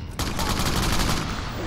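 Sustained gunfire in the open-world action game Crackdown on Xbox 360, a dense, continuous rattle of rapid shots starting abruptly and running steadily at loud volume.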